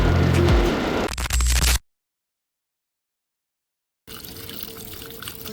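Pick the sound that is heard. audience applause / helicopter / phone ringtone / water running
water running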